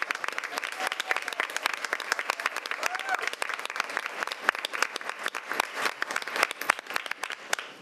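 An audience at a school board meeting breaks into sustained applause, with many hands clapping in a dense, steady patter that carries on throughout.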